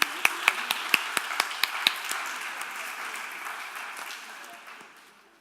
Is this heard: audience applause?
yes